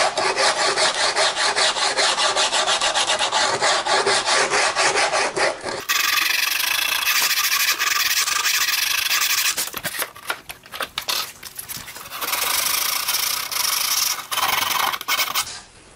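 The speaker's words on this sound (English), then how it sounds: "I use 36 grit for the initial smoothing process, where I take out the saw marks and even up the bumps." Rough 36-grit sanding block rubbed hard across a wood pattern, a loud, continuous rasping scrape in long strokes, close up, pausing briefly before resuming.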